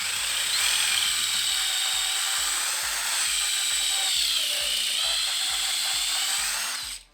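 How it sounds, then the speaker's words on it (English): Power drill fitted with a 3/4 inch bit boring holes, a loud, steady high-pitched whine with a regular ticking chatter underneath, running continuously for several seconds before winding down abruptly at the end. "You're gonna put it in your drill, stick it in one of the holes that you're gonna use,"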